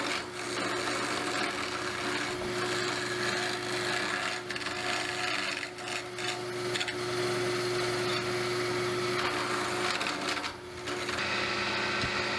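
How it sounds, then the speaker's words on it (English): Wood lathe with a tool cutting a spinning piece of wood, giving a continuous rough scraping rasp over a steady motor hum, moderately close and unbroken for the whole stretch. "as I make a cut on a piece of wood now"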